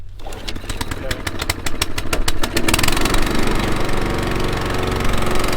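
A small engine on a farm fuel trailer, just repaired, cranks with rapid rhythmic chugs and then catches, running loud and steady nearby.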